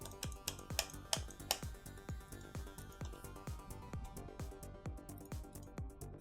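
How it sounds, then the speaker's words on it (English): Computer mouse clicking in rapid, irregular succession, a dozen or more sharp, close clicks over a steady low background hum. "if my right mouse will actually let us... What's going on here? Can you hear it clicking?"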